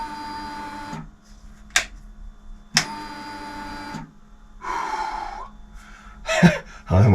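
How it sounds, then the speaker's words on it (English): Electric fuel pump priming on a high-mileage BMW 1150GS motorcycle: a whirring buzz runs about a second, stops, and repeats several times in short bursts, each separated by brief clicks and quiet gaps. "Fuel pump going."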